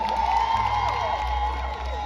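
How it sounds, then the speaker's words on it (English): A large outdoor crowd at St D'acre Carnival on Easter Monday cheers and whoops with scattered clapping, a loud blended roar under a tonal, sound-system-like hum. "Give yourself a round of applause."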